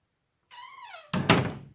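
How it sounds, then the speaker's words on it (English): A door thuds shut with a heavy knock, preceded by a short meow-like tonal cry, then a brief rattle as it settles; loud and close, no talk. "Man, I shut the door back."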